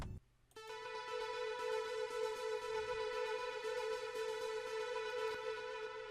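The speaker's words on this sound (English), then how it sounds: "you guys can see that it adds a lot of reverb and a lot of delay" A soft synth pluck blooms into a long, washed-out tone, smeared by heavy reverb and echoing delay that sustains evenly throughout.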